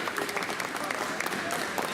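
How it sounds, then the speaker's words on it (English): Crowd applause at a comic con cosplay Q&A in Harlow, a brisk, continuous patter of clapping from the audience, moderately distant and unbroken. "give a massive round of applause for all these guys, please"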